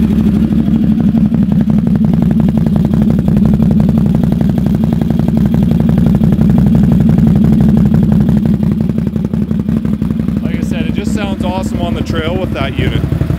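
A loud, close XMR800 ATV engine with a slip-on exhaust idles with a rapid throaty exhaust putter, steady throughout, and a voice briefly chimes in near the end.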